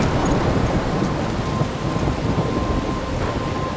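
Thunderstorm in the video game Life Is Strange: dense, roaring rain and wind with low rumbling thunder, a loud continuous wash of sound with no voices.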